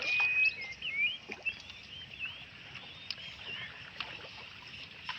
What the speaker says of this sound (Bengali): আমার ভাগিনা সিয়াম নৌকা চালাচ্ছে